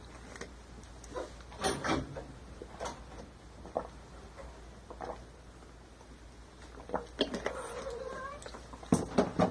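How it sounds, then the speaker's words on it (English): A cat meows several times in short, uneven bursts, fairly close, with quiet background noise between the calls. "Quit meowing. Goddamn cat running wild."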